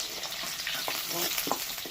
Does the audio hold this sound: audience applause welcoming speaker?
no